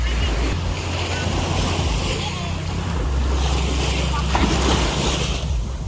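Sea surf rolls onto a beach at sunset in a constant broad wash, heavily buffeted by low wind rumble on the microphone, with faint voices of people nearby.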